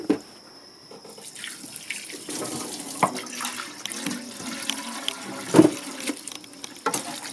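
Tap water runs into a sink, rinsing out a container used for maggot feeding, a steady close gush with splashes and clatters of handling.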